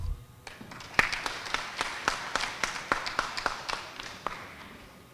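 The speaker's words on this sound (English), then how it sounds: "Give him a round of applause again." Scattered applause at a political party's constituency annual general meeting, a few distinct, fairly faint claps in an uneven rhythm rather than a full ovation.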